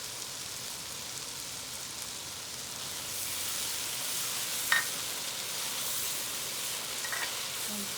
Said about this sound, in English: now I am adding our dry masalas. This all needs to go in, and we will let it roast with